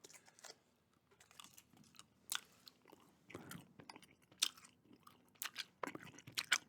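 Chewing gum worked close to the mouth gives soft, wet smacks and crunchy clicks in an irregular rhythm, quiet and intimate, with no talking.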